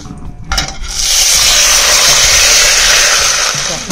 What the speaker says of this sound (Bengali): একটু লঙ্কা ফোড়নে দিয়ে দিচ্ছি